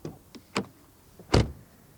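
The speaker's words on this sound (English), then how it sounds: "door closing sound. That sounds quite solid, doesn't it?" Door of a 2020 Porsche Macan GTS swung shut with a solid, heavy thud, preceded by a few light clicks and taps of the handle and latch, close and alone.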